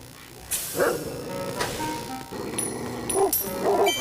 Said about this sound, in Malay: Anjing lagi.